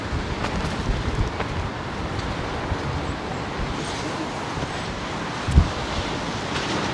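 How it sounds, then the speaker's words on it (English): Strong, blustery wind roars steadily across the microphone at London Heathrow Airport, a loud, continuous rumbling gust noise with one brief thump partway through and no clear voices. "Well, it's so blustery."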